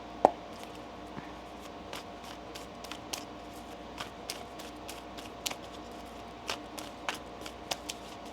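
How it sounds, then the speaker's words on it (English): A tarot deck is being shuffled by hand, with soft crisp card riffles and light taps that come in irregular bursts against a quiet room and no voices. "One more shuffle."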